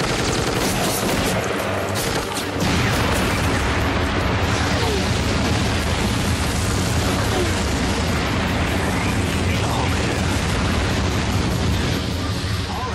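Explosions and heavy gunfire erupt in a Chuck Norris action film, a loud sustained barrage of booms and rattling bursts that swells after a brief lull and roars on continuously.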